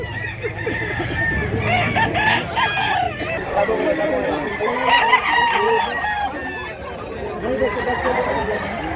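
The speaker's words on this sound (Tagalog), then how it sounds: "Wapo, gandang manok." A two-year-old white rooster at a rural market crows repeatedly amid steady background chatter, clucking from other fowl and people talking nearby.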